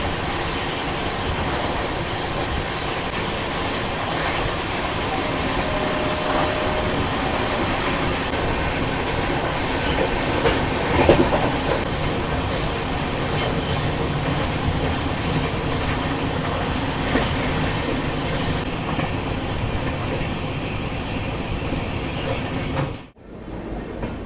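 A 22406 Anand Vihar–Bhagalpur LHB Garib Rath Express runs along the Sahibganj loop line in Bihar, with a steady loud rumble and rattle of wheels on rail and a brief dip near the end.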